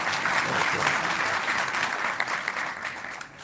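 A crowd applauding at a public talk, dense steady clapping that stays loud and continuous, tapering slightly at the end.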